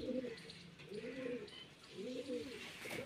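Punjabi Malwai pigeons coo in three low, rolling phrases spaced about a second apart, close and fairly quiet over faint background noise.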